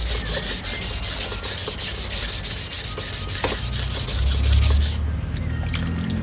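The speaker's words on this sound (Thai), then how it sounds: "จนขัดตรงเหลืองออกแล้วนะครับ" Sanding a yellowed plastic car headlight lens by hand, a steady close rasping scrape with a rhythmic back-and-forth pulse that continues for several seconds before easing into softer rubbing.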